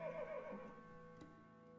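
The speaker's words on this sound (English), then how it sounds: "It was a horse." A horse whinnies in the video game Fire Emblem Echoes: Shadows of Valentia, a wavering neigh in the first half-second that fades into steady game background music, with a brief thump near the end.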